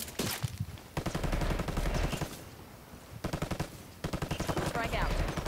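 Hostile gunfire in Ghost Recon Breakpoint: loud bursts of rapid automatic fire rattle in several clustered volleys with short gaps between them, close and dominant, with faint voices in the mix.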